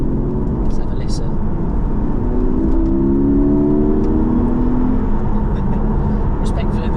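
Porsche 718 GTS 4.0 engine in sport mode, heard from inside the car as a continuous loud drone with a tone that rises and swells midway through.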